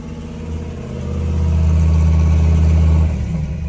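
A 1968 Ford F250 truck engine struggles to idle, a low rough rumble swelling louder for a couple of seconds and then sagging and faltering as it nearly dies.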